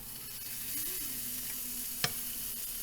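Butter sizzles in a hot pan before blackened catfish goes in, a steady crackling hiss throughout with a faint low hum and one sharp click near the middle.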